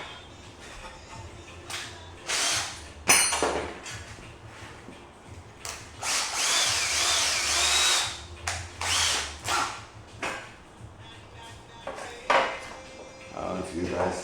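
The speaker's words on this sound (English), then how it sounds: "Alright, so I'm going to drill the holes now." A power drill bores holes in a lawn mower chute blocker, running in several short, loud bursts of a few seconds each, with quieter handling noise in between.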